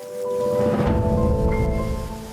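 Steady rain pours with a low, rolling thunder rumble, continuous and fairly loud, while sustained musical tones run underneath.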